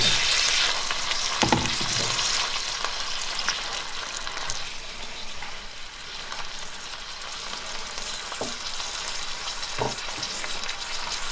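Amatriciana sauce for penne frying in a pan, a continuous bright sizzle with occasional stirring knocks and scrapes as it is mixed.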